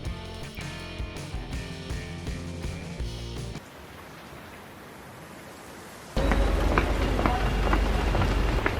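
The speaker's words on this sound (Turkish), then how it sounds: "deli gibi yağmur yağmaya başladı" Heavy rain pours steadily, dense and hissing, growing louder and closer partway through as the downpour intensifies.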